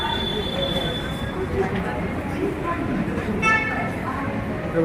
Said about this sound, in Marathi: Pune railway station.